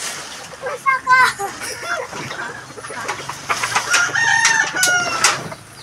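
Chickens cluck and crow close by on a farm, a rooster's crow rising over repeated clucks and squawks, with people talking underneath throughout.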